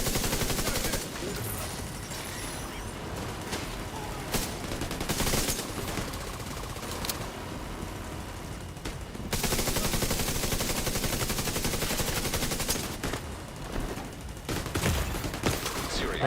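Sustained enemy automatic gunfire in The Division 2 video game, dense rapid bursts with brief gaps, loud and continuous over the whole stretch, a voice faintly present underneath.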